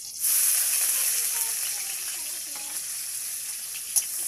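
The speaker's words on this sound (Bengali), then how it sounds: "আমি এবার চপের আলুর জন্য লঙ্কাটা দিয়ে দিচ্ছি, পেঁয়াজটাও দিয়ে দিচ্ছি" Chilli and onion tossed into hot oil for potato chop filling burst into a loud, bright sizzle that settles into a steady hiss, close up, with a small clink near the end.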